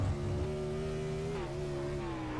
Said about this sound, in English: Maybe a missed shift out of the 81 going up into 4th.